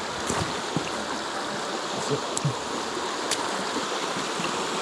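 A river flowing over rocks near a waterfall in Southern California, a steady close rushing wash with a few brief splashes and knocks from footsteps on stones.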